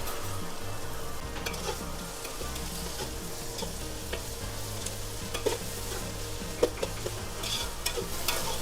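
Whole cinnamon, cloves, cardamom and bay leaf fry in hot oil with a continuous close sizzle, broken by occasional stirring scrapes and small clinks, with no voices.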